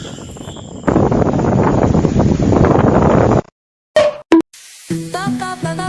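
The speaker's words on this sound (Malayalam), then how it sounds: "നോക്ക് കാറ്റും കോളും." Strong wind roaring loudly and steadily for several seconds during a stormy spell, then cutting off abruptly, followed by a few short bangs and some faint indistinct noise.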